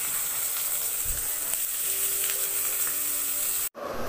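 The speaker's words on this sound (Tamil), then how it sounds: "வெங்காயம் வதங்கிடுச்சு" Half an onion frying in hot oil for a Tamil chicken kuzhambu, a steady broadband sizzle running continuously and fairly close, with a soft low thump partway and a brief break near the end.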